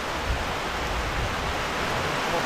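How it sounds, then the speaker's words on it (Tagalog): Heavy rain pours near a hut on a farm, a dense, steady hiss that fills the whole clip with no breaks and no voices. "maganda na po yung ulan ngayon. Hindi natin pwede sabayan po ang ulan."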